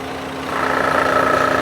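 A motorcycle engine with oil smoking from the dipstick idles close by, a steady low hum that grows slightly louder and buzzier partway through.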